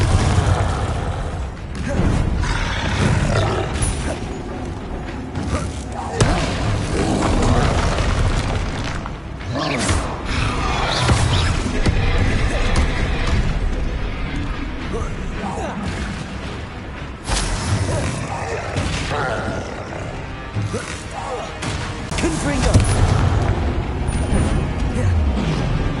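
Confringo blasting spell explosions in Hogwarts Legacy burst repeatedly through a long, busy combat mix, loud booms recurring among clattering effects and occasional voices.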